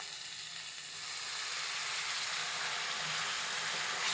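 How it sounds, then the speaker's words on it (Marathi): Green amaranth leaves stir-fried with browned onion in a pan make a continuous moderate sizzle that swells slightly after the first second, with faint stirring underneath. "आणि ती लगेच परतून घेऊया आणि गॅस थोडा स्लो करून घेऊया, म्हणजे कांदा करपणार नाही"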